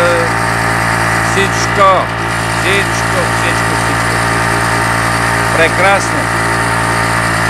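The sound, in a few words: Tummler outboard motor running on Kolibri IV kayak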